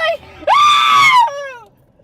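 A person screaming, inserted as an imitation of a rider's scream on a roller coaster: one loud, sustained, wavering shriek of about a second, followed by a brief falling tail, close and alone without talk.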